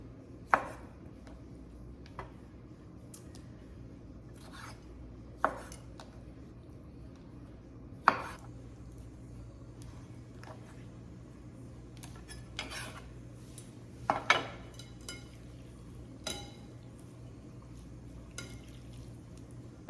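A knife quarters vegetables for giardiniera on a cutting board in a home kitchen, with sparse, irregular sharp chops spaced a few seconds apart over a quiet background.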